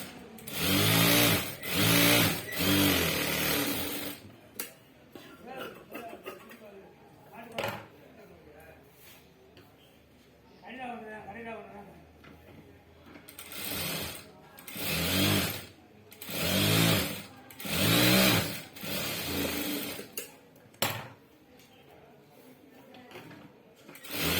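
Sewing machine stitching blouse fabric in a tailoring workspace, running in several loud bursts of a few seconds each, with quieter handling and pauses between the runs.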